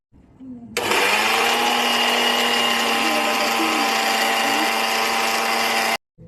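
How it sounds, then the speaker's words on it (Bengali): A kitchen mixer grinder whirs loud and steady for about five seconds as it grinds spices, starting abruptly and cutting off sharply, with a brief voice heard before it starts. "এখন আমি একটু মিক্সচার করে নিই ঠিক আছে মশলাটা"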